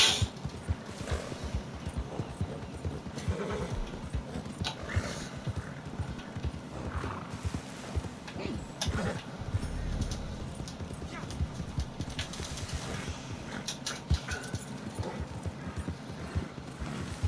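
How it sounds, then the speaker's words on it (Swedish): A horse walking with clip-clopping hooves, a steady run of hoof strikes close by, with an occasional whinny and faint voices in the background. "Här är hästen här."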